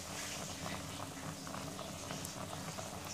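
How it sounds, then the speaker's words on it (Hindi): Pot of water with pasta at a rolling boil on the stove, a steady close bubbling and gurgling that keeps an even level throughout, with no speech. "हमारा पास्ता अभी हम चेक करेंगे बॉयल हुआ कि नहीं अच्छे से।"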